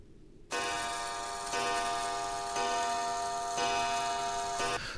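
A clock ticks steadily in a quiet room, a sustained ringing tone underneath with a few soft shifts in level, no voices present.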